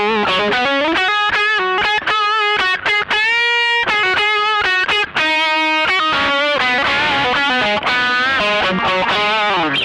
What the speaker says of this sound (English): That's distortion into overdrive as opposed to overdrive into.